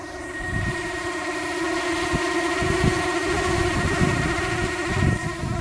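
A DJI Mavic Air drone in flight with a fault that makes it shake, giving a steady high-pitched motor whine with fluttering, wavering tones throughout, heard alone and fairly close.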